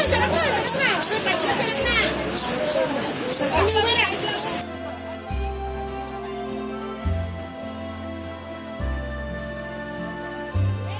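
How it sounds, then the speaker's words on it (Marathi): A crowd of tourists gathers at Dabhosha waterfall in Jawhar during a monsoon Sunday, producing a loud, busy hubbub of chatter. Partway through, the babble gives way to steady music. "बाकी भरपूर गर्दी आहे, आज संडे आहे म्हणून"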